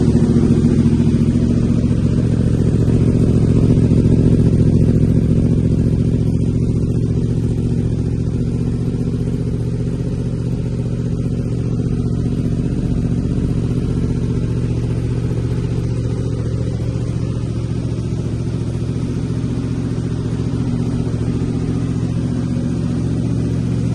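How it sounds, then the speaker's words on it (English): A 2023 Yamaha R1M motorcycle fitted with a Yoshimura Alpha exhaust idles loudly and steadily after a cold start, a deep, continuous rumble up close with no revving and no talk. "I'll do a cold start for you too, just so you can see this, so that you can hear the bike as well."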